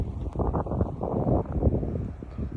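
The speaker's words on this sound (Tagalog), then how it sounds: "Mahangin ngayon." Strong wind during a spring snowstorm in Canada buffets the microphone in loud, uneven gusts and low rumbling bursts, close and continuous, with no talking.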